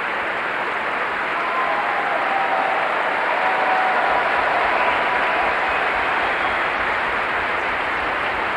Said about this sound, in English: A crescendo of applause for Mr. Tracey after his performance of that